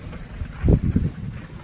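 Strong wind gusts across an outdoor microphone, producing low rumbling buffets that swell briefly and then settle back to a softer steady blow.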